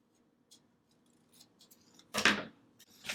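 Scissors cutting paper for a handmade habit tracker, a quiet scattering of small snips and rustles, then one louder close crisp cut near the end.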